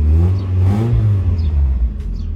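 A cold Mazda Miata engine revs, its deep growl swelling and easing in short blips, loud and close with a throaty low rumble and some light mechanical clatter, with no voices.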